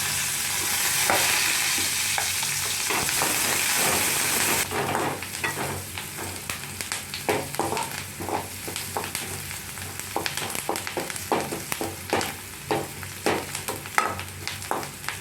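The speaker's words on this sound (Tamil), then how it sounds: "வெங்காயம் கருவேப்பிலை போட்டு வதக்கணும்" Onion and curry leaves fry in a pan with mustard seeds, first under a steady loud sizzle, then broken into a run of rhythmic scraping stirs as the spoon works the pan, with no talk.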